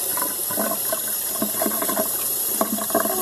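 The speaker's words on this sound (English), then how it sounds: "It's only been 4 days, so, gonna rinse these out." Fermented tomato seeds rinsed under running water, a soft steady splashing and trickling with small sloshing bursts, close and fairly quiet.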